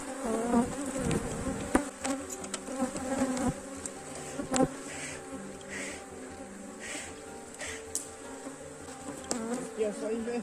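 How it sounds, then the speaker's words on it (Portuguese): A swarm of bees at a beehive hums in a dense, continuous buzz close by, with irregular knocks and handling bumps throughout while a colony is being inverted. "Vai ser com esse enxame aqui que vamos estar invertendo."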